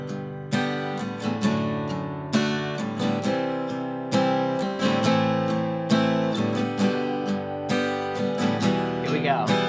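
An acoustic guitar plays a plucked melody on the top strings over strummed chords, with bright picked notes ringing out in an uneven rhythm, close and clear.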